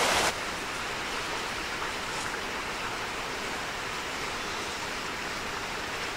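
Steady rushing water of Kitchen Creek flowing through the ruins of the Lake Leigh Dam in Ricketts Glen State Park, Pennsylvania, a constant broadband roar with no breaks or voices.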